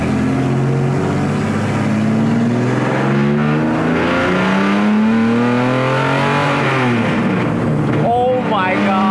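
A loud Nissan 240Z race car engine revs and roars close by, pitch climbing and falling through the gears, with a sharp rising whine near the end.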